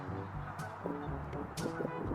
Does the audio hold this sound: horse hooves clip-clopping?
no